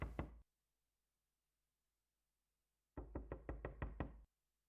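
Door knocking in the video game Dungeon Heist, a short cluster of knocks, then silence, then a longer run of about eight rapid, evenly timed raps, close and distinct.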